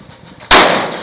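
A single loud, sharp rifle shot from a Cobalt Kinetics BAMF AR-15, an abrupt blast with a quick decaying echo after a moment of quiet outdoor background.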